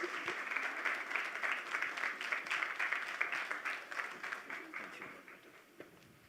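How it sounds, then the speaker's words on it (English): Sustained audience applause fills a conference hall at a healthcare event, dense overlapping clapping holding steady for several seconds before gradually thinning and fading near the end. "A round of applause."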